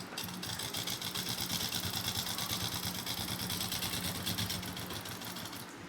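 A sewing machine stitches around the neckline of a thin-fabric kurti, running steadily and continuously for the whole stretch with a dense, even mechanical whir close by and no talk over it.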